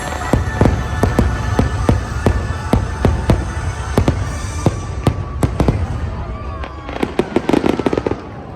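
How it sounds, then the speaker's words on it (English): Fireworks at Disney's Magic Kingdom theme park pop in a rapid, steady series of sharp bangs over a dense crowd rumble, with voices faintly present in the background. "Got the fireworks going on right now."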